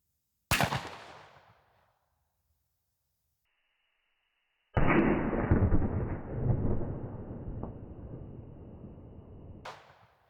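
A shotgun loaded with lead #6 shot firing into a gel block fitted with rolled-up towel: one loud sharp blast that rings off, a long hush, then a rushing roar and a final crack, with no talking.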